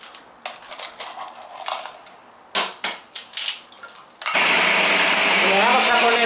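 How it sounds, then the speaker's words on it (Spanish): An electric hand mixer with beater attachments starts up and whirs steadily while beating four eggs for a pumpkin cake, after a series of clattering kitchen knocks and taps. "Le hemos puesto las aspas para batir."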